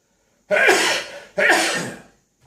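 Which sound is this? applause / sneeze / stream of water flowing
sneeze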